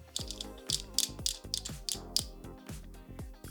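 Ratcheting clamp on a Work Sharp Precision Adjust Elite knife sharpener being tightened onto a knife, giving a close series of sharp mechanical clicks in an uneven rhythm, about a dozen in quick succession.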